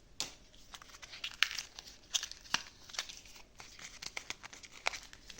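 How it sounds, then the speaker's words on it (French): Crinkly plastic packaging holding scrapbooking items is unwrapped and torn open, a close series of irregular crackling rustles and sharp crinkles continuing throughout. "Je suis en train de déballer."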